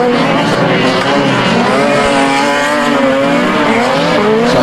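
Rear-wheel-drive dirt rod stock cars race around the dirt oval at Stansted Raceway. Several engines roar together loudly and continuously as the cars pass close by.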